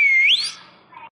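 A single rising whistle sounds close and clear, sliding upward then trailing off into a faint tail within about a second.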